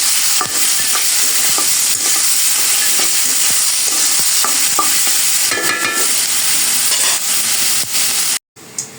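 Drumstick and potato curry frying in a pan with green chili added, loud steady sizzle and stirring scrapes running continuously, then a brief cut near the end.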